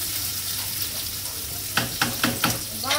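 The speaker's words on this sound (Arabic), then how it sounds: "وهلا شوي بقلي الفلافل مع البصلة" Falafel frying with onion in a pan gives a steady soft sizzle, broken near the end by several sharp scraping stirs of a utensil against the pan.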